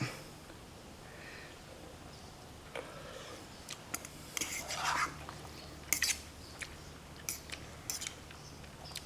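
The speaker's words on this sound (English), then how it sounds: "stir my stuff up, get a piece of noodle with plenty of cheese and a beef stick" Faint, sparse scrapes and clinks of a utensil stirring mac and cheese in a metal canteen cup, irregular and quiet against a low background hum.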